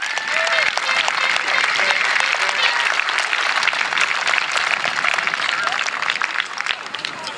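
Audience applause welcoming a speaker at a Jefferson County Tea Party event, a steady dense clatter of many clapping hands filling the whole stretch at close range.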